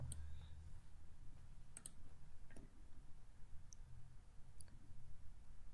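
A few sharp computer mouse clicks, close and quiet, scattered across a near-silent stretch with faint room hum underneath.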